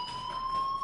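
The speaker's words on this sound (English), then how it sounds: "do you hear that fire alarm?" A fire alarm rings with a steady, piercing electronic tone at moderate loudness and holds without a break.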